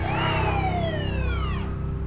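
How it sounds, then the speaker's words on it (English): An ambulance siren wails with a falling pitch over a low engine rumble, loud and close, fading out near the end. "right away in the ambulance, full sirens"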